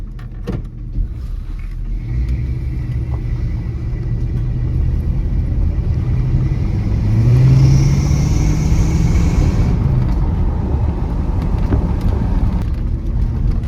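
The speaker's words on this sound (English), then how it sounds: "Oh, and this truck is so good. It's so comfortable and so easy to drive." A barn-find Chevrolet C10 pickup truck drives along with a steady low engine rumble and road noise inside the cab, the engine note rising briefly midway before settling back.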